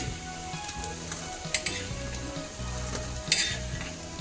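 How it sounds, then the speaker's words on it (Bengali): Mutton shami kebabs sizzle steadily in hot oil, with a few sharp clinks of a utensil stirring the pan. "এমনিভাবেই আমি সমস্ত স্বামী কাবাবগুলো ভেজে নেব"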